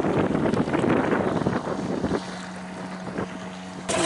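A 5 hp outboard boat motor hums steadily across the water with gusty wind buffeting the microphone, the engine tone settling into an even drone.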